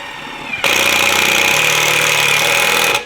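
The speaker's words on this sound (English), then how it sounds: "Performance exhaust by Hackshop Garage." A car engine through a performance exhaust kicks in suddenly, loud and rough, and holds a steady, raspy drone for a couple of seconds before cutting off abruptly.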